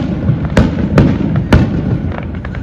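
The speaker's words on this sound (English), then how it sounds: "fireworks." New Year's Eve fireworks at a free outdoor New York celebration crackle and bang, with three sharp loud bursts over a steady rumble of distant explosions.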